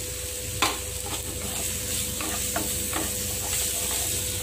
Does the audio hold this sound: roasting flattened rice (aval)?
yes